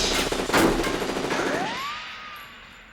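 Gunfire in the stealth video game Metal Gear Solid 2: Sons of Liberty, a dense burst of shots in the first half that trails off into a fading electronic whine with no talk.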